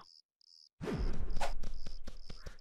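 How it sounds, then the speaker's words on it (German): Crickets chirping in the blocky game Cube World, a steady high trill broken by a short gap, then continuing under rustling movement and soft thuds close by. "Was sind hier eigentlich so viele Grillen?"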